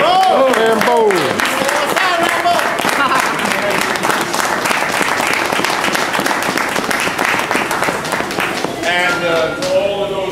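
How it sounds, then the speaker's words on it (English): An audience at a Guardian Angels 36th anniversary gathering claps and cheers for Rambo, sustained loud applause with whoops and shouting voices rising over it at the start and end. "Let's give a nice round of applause for Rambo here."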